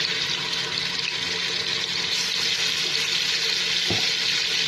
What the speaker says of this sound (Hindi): अब मैं इसमें डालूंगी लहसुन अदरक का पेस्ट